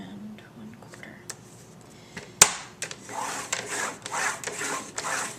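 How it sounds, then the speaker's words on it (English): A scoring tool drawn across cardstock, heard as a sharp snap followed by a string of close, scratchy strokes of varying length, with faint whispery talk early on. "now that we've got it all scored"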